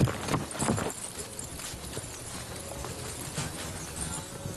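Horse hooves clip-clop close by in a steady walking rhythm, loud at first and then settling to a quieter, even pace, with no talking.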